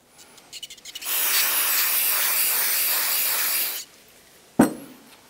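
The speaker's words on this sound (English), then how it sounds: "We'll use some parts cleaner on each one of these caliper sliders." Brake parts cleaner sprays onto a caliper slider pin during a rear brake job on a 2009-2019 Ford Flex: one steady, loud, close hiss lasting about three seconds, followed after a pause by a short sharp knock.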